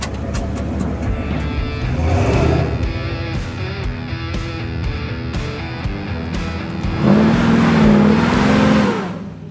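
Engine of the MORR off-road wrecker truck revving as it climbs off-road in two-wheel drive, a loud rumbling roar that surges, eases off, then swells again in a strong rev near the end.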